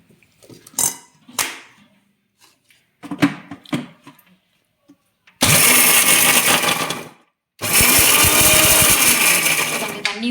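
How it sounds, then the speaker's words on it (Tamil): A kitchen mixer grinder runs in two loud bursts, grinding peanuts and other ingredients for homemade peanut ice cream, after several seconds of scattered soft clatter and handling noises. "இதை மிக்சியில் எல்லாத்தையும் போட்டுட்டு அரைச்சி எடுத்துட்டு வந்துடலாம்."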